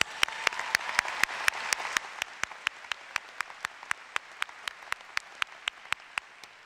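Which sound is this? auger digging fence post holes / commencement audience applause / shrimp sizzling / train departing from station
commencement audience applause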